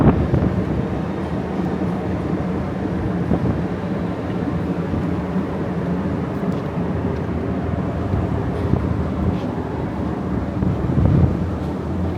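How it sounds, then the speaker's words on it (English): Gusty wind buffets the microphone on the open upper deck of a cruise ship near the go-kart track at night, a steady low rumbling roar throughout with a slight swell near the end. "It's kind of windy up here tonight, so hopefully that's not making the audio too bad"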